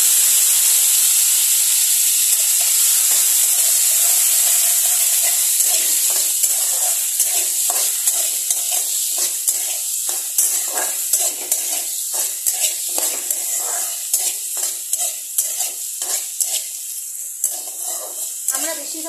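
Crushed kasuri methi sizzles and hisses loudly in a hot oil tempering, a steady close frying roar broken by a rapid run of scraping stir strokes in the later half.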